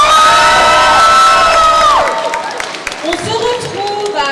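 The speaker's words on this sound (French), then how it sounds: "Et un tonnerre d'applaudissements pour vous," A cosplay contest audience cheers and whistles loudly for a couple of seconds, then the roar drops to scattered shouts and claps while a voice talks over it.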